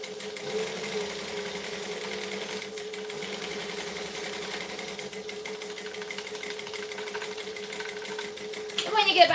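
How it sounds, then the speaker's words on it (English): A sewing machine runs a backstitch with a steady, continuous motor whir and needle chatter at close range, ending in a brief clatter and rustle. "And when you get back to the start, we backstitch."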